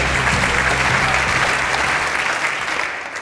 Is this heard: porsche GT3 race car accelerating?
no